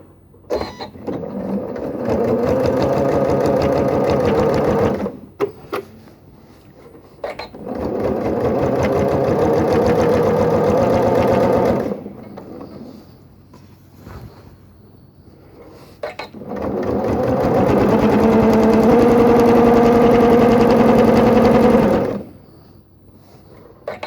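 A sewing machine stitches down the side of quilt-as-you-go fabric in three sustained runs of steady whirring, each several seconds long and close up, separated by short pauses with small handling sounds.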